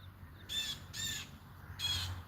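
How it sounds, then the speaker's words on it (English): Noisy bird calling from somewhere overhead, three loud, harsh caws spaced about half a second apart, rising out of a low background rumble. "What kind of bird is that?"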